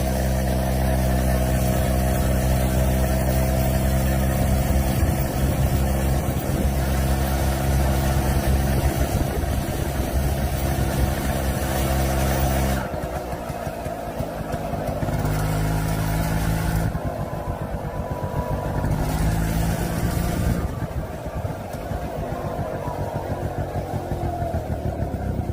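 Honda Hobbit PA50 moped engine labouring up a steep hill, a close, loud, buzzing drone with a steady pitch that later falls off and fluctuates as the load shifts.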